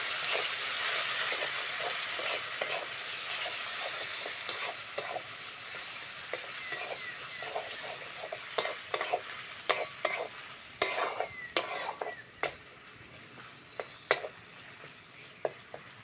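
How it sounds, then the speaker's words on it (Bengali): A ground paste of ginger, garlic, cumin, onion and coriander with salt frying in oil, a constant close sizzle broken by spatula scrapes and clicks that grow more frequent toward the end, no voices. "মশলাটা ভালো করে কষে নিয়েছি, মশলা থেকে তেল ছেড়ে দিয়েছি"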